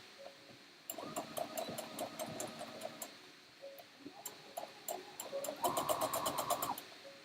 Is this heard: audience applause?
no